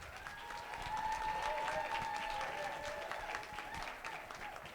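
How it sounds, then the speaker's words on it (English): Crowd at a public forum in Reno applauds and cheers, a broad steady wash of clapping with raised voices and whoops mixed in, swelling in the middle before easing off. "They're cheering for your haircut as well as for the organization that you're in."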